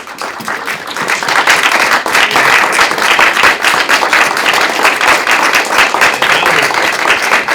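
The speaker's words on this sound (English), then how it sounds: "Please stand and give her a nice round of applause." Applause from a standing audience at a civic ceremony naming a city's first poet laureate in Dayton, dense and sustained clapping that stays loud and steady from start to finish with no speech over it.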